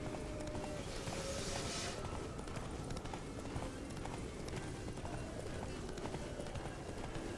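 Hooves of a galloping horse in The Witcher 3: Wild Hunt pound in a steady, quick rhythm amid wind and ambient game sound, fairly loud throughout.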